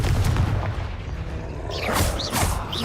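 A Confringo explosive spell cast in the game Hogwarts Legacy, a loud booming blast with rumbling low end and whooshing magical streaks trailing over roughly three seconds.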